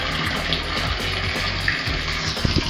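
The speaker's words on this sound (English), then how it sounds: "we can see which way the water is returning from" Water rushes and gushes steadily through the pipes and filters of an irrigation dosing system for drip lines, a loud continuous close-up flow with a few faint clicks near the end and no talking.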